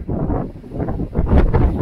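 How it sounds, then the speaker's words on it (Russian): Gusty wind buffets the microphone in uneven rumbling bursts, loud and close, rising and falling over a couple of seconds, on a rocky coastal mountain trail in autumn. "Ветер, кстати, ветер начинается."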